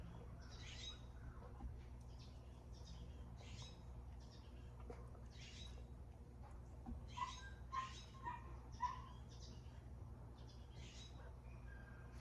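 A dog barks in another room, muffled and distant, in scattered short bursts over a steady low background hum.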